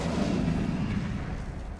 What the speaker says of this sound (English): I was trying to throw a grenade. That was a grenade.